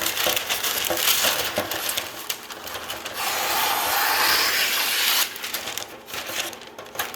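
Parchment paper is cut and fitted into a tray, with crinkling, rustling and crisp scraping that continues for several seconds, close and fairly loud.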